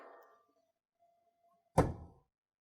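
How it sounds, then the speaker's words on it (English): The instrument door of a Magnis lab instrument shuts with a single solid thunk after a quiet pause, close and brief, following a faint earlier rustle. "Now we are to close the instrument door."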